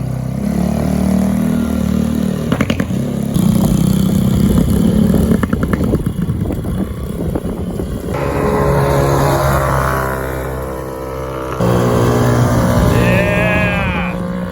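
A Polaris RZR 170 with a carburetor needing idle adjustment runs loud and close, its engine droning steadily while the revs rise and fall unevenly over the whole stretch.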